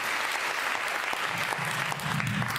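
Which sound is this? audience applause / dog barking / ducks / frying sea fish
audience applause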